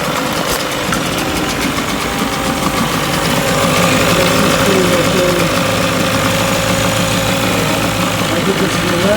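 A 20 hp Mercury outboard motor, carburetor rebuilt, runs steadily at close range with a loud, continuous mechanical drone and rattle, holding an even pitch throughout with no pauses.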